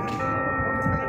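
Church bells ring steadily with sustained overlapping tones in Riobamba, Ecuador, a political rally crowd murmuring loudly underneath.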